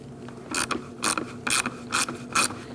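A ratchet with a 10mm socket loosening a coil bolt on a 2000-2006 Mini Cooper 1.6L engine, five evenly spaced clicking pulls, close and crisp with brief pauses between strokes.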